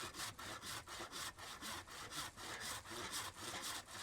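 A hand saw cuts through wood outdoors on a camel expedition, its steady rasping strokes repeating in an even back-and-forth rhythm, close and clear with no talk.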